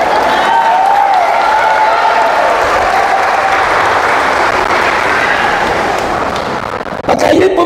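A church congregation at Baclaran claps together in a dense, steady wash of applause lasting about seven seconds, with a voice or tone faintly audible within it before it thins out at the end.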